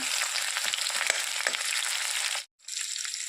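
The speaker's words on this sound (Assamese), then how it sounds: "পিঁয়াজখিনি অলপ টাইম ভাজি ল'ব লাগিব" Onions fry in hot oil with a dense, close, crackling sizzle that runs steadily, broken once by a brief silent gap before resuming, with no voices.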